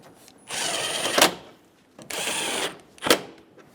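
A power tool driving the two top bolts on a 2005–2015 Toyota Tacoma grille during bumper bracket replacement, heard as two steady close whirring bursts of roughly a second each, each ending in a sharp higher whine, with short pauses between.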